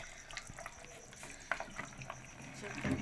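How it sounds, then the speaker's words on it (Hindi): A spoon gently stirs batter being added to a mixture to keep lumps from forming, giving soft, quiet scraping and wet swishing with a few light taps. "अब इसको हम इसमें डालेंगे इस तरह से चम्मच चलाते हुए, ताकि ये गुठलियाँ नहीं बने, हल्के हाथ से"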